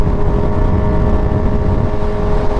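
A Kawasaki Z900 motorcycle is ridden over a bumpy road, giving a loud, unbroken drone of engine and rushing wind, with no distinct bumps standing out.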